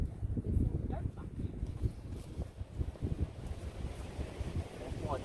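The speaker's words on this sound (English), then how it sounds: "the wind's blowing my gas everywhere" Strong wind gusts outdoors buffet the microphone with a continuous low rumble during work on a 1969 Mustang left out in the rain for 21 years, while a voice can be heard faintly at moments.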